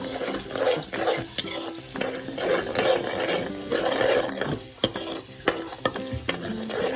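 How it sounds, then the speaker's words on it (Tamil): Four eggs poured into a pan and fried with sugar while being stirred for paneer rice, giving a steady close sizzle broken by scraping stirs and a few sharp spatula clacks near the end. "இப்போ 4 முட்டை உடைச்சி ஊற்றிக்கலாம்."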